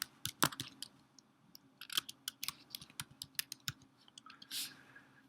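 Web addresses are typed on a computer keyboard in quick, irregular bursts of crisp nearby key clicks, with a low steady hum underneath and no one speaking.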